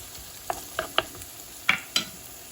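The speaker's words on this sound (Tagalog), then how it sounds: "I've been sauteing this garlic and onion for 2 minutes in a medium heat" Garlic, onion and green onions sauteing over medium heat in a pan, heard as a faint background sizzle broken by several sharp scraping knocks as a utensil stirs the mix, with no voices.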